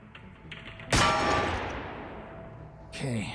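A single loud gunshot in the video game Receiver 2 rings out sharply and decays over about two seconds, followed by a brief voice.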